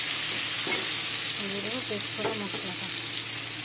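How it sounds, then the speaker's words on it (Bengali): A ground paste of tomato, green chillies and garlic hits hot oil in a pan, giving a loud, constant sizzle and frying hiss with brief stirring scrapes up close. "এখন দিয়ে দিব পেস্ট করা মশলাটা।"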